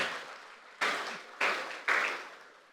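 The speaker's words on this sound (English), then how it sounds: "Another round of applause," Bursts of applause from the audience at the All Nigeria Editors Conference, three fresh swells of clapping, each fading into a dense, hall-filling wash before the next rises.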